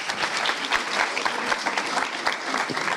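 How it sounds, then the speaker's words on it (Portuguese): A crowd claps steadily, dense and continuous applause throughout with no voices standing out. "Minha salva de palmas."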